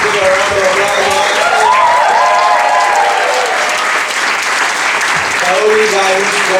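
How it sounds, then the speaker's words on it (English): A comedy-show audience breaks into loud, sustained applause with whoops and voices rising over the clapping, steady throughout. "Give a round of applause."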